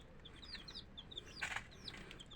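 Layer hens and roosters on a small poultry farm make faint, scattered clucks and chirpy calls, with one brief louder squawk partway through.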